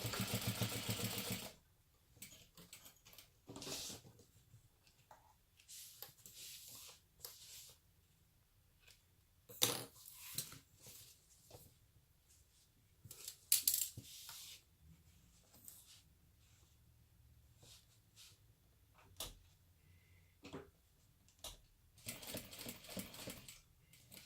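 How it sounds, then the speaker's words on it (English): A sewing machine bastes a straight seam at a 1/4 inch allowance on a fabric beauty bag, heard as a burst of steady stitching at the start, then intermittent short runs and clicks of fabric handling at moderate, close range. "now I will baste that in place"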